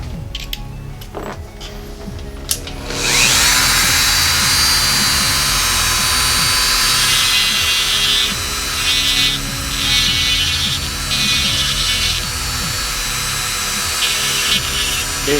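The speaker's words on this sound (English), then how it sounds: "Basically just deburring the edges just to make sure everything here is nice." A file rasping along the cut edges of a double-shielded PWM control cable for a CNC system, a steady harsh broadband scraping that starts after a few quieter seconds and holds loud and continuous, with no talk.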